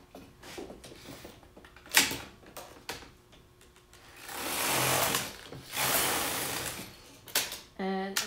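A knitting machine carriage is pushed across for a circular row, giving clicks and ratcheting clatter in bursts, then two longer sliding whooshes. A voice speaks briefly.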